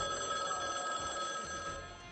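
A payphone in Chicago rings with a fairly loud, steady electronic trill, its repeated pulses continuing without any voices.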